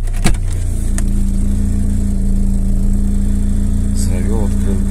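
Volkswagen Passat B3 engine idling steadily just after starting, a constant low hum that runs through the whole stretch with a brief knock near the start; a voice speaks quietly over it.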